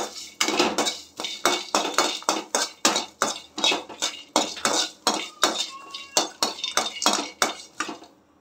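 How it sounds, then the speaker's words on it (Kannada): Garlic and ginger fry in a pan for natti-style chicken biryani as a spatula scrapes and stirs in a steady, quick rhythm of about eighteen close, crisp strokes, with no voices. "ಇದನ್ನು ಚೆನ್ನಾಗಿ ನಾವು ಫ್ರೈ ಮಾಡ್ಕೊಳ್ಳೋಣ."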